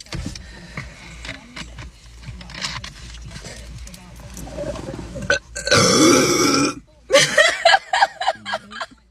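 Woman burping loudly, with a series of croaky belches, one long drawn-out burp midway, mixed with talk and laughter from people close by.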